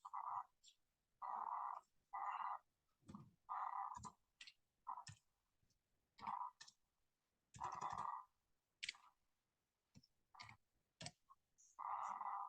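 Typing on a computer keyboard while entering a Python program, faint and close: irregular bursts of soft key clicks separated by short pauses.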